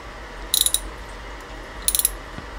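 Barrel screws on a Shanghai 61 air rifle being tightened, giving two short bursts of quick ratcheting clicks about a second apart, close and fairly crisp over a quiet background.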